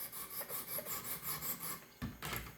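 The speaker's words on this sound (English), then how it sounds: "I'm looking at the edge and I'm moving the stone." A sharpening stone on a Wicked Edge Gen 4 guided sharpener strokes along a knife bevel in quick, even, rhythmic rasping passes, close and fairly quiet, then a brief pause before a couple more strokes.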